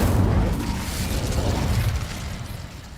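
Incendio fire spell in Hogwarts Legacy igniting dry vines: a deep rumbling burst of flame with a rushing, crackling roar that fills the first two seconds, then slowly thins out.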